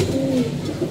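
Female pigeons cooing softly at rest in a loft, a couple of low throaty coos close by against a steady murmuring background.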